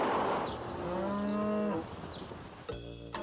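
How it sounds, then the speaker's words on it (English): A cow moos in one long, clear, harmonic call lasting about a second, close by, followed by a brief harsh noise and a low drone. "Yes, sweetie, cow."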